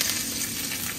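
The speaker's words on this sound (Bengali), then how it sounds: "সব সবজিগুলো দিয়ে দিই, ভালো করে একটু ভেজে টেজে তারপরে আদা বাটা দিয়ে কষিয়ে নেব" Vegetables, potatoes and green chilli with panch phoron, frying in hot oil in a pan: a loud, dense, continuous sizzle close up, with no voices.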